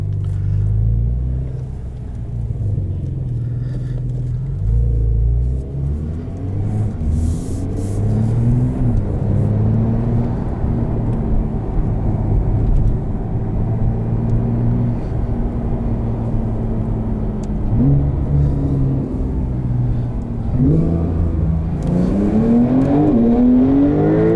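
A 2021 Porsche 992 911 Turbo S accelerates up a highway on-ramp, its engine note loud and close, droning and climbing in pitch with gear changes over a steady road roar.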